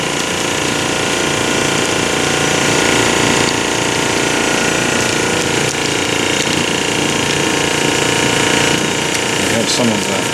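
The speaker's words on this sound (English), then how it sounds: "So we just turned on the vacuum pump." Vacuum pump running in a composite workshop class, giving a loud, constant mechanical drone with a buzzing hum and rattle that holds steady, while scattered workshop noises sound underneath.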